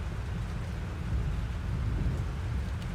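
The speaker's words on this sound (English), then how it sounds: "This storm is real." Thunderstorm with heavy rain in the video game Life is Strange: a steady, dense roar of downpour with a deep rumbling undertone, continuous and without voices.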